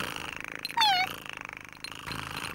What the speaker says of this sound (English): No, Polly's a ship's cat, Pat.